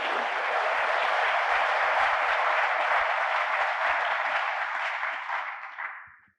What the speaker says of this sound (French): Je vous propose d'applaudir d'abord.